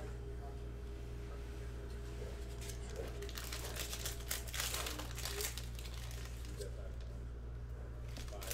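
A 2019-20 Panini Chronicles Basketball fat pack wrapper is ripped open with continuous close crinkling and tearing of foil over a steady low background hum.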